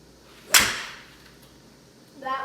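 A fairway wood golf club swung once outdoors, giving a single sharp, loud swish that tails off, followed near the end by a brief faint voice.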